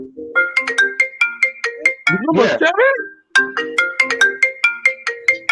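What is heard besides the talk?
mobile phone ringtone ringing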